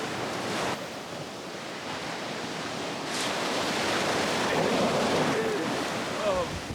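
Cold ocean waves wash steadily against the shore in a continuous broadband surf roar with some wind buffeting the microphone, and faint voices appear briefly.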